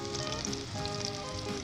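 Onions sizzle and fry steadily in a pan, a dense, even crackle with salt and cumin just added, heard close up with no talking.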